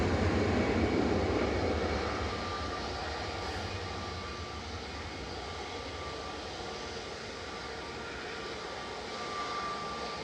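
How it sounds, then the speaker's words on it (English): An EasyJet Airbus A320 Classic departing Manchester Airport gives a broad, heavy jet roar that is loudest at first and then eases into a steady rumble. "That was EasyJet 2161 departing to Amsterdam there, GZWD, A320 Classic."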